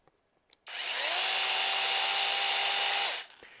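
A chainsaw with an automatic oiler is revved next to a piece of cardboard. After a couple of faint clicks, a loud, steady high-pitched engine whine holds for about two and a half seconds, then cuts off abruptly.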